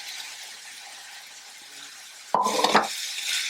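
Vegetables that were fried earlier are stirred into cooked chicken in a pan, a sudden burst of scraping and sizzling that cuts in after a quiet stretch of low background hiss.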